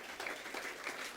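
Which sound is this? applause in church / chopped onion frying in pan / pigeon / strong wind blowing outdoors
applause in church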